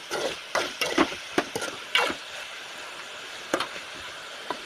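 Chicken being stirred in a frying pan gives sharp, irregular scraping clacks of a spatula against the pan, several quick strokes close by over a faint sizzle.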